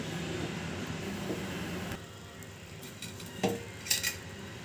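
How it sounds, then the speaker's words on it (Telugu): Metal kadai pan set onto a gas stove, a faint clunk and light metallic clinks over steady kitchen hum and hiss. "ఇప్పుడు గ్యాస్ ఆన్ చేసుకొని ఒక బాండీ పెట్టుకోండి"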